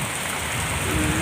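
Steady rain pours down outside a house, a dense, loud, close hiss that holds level throughout with no voices.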